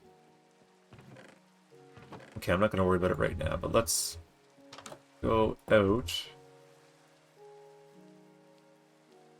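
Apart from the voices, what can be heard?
rain in the video game Minecraft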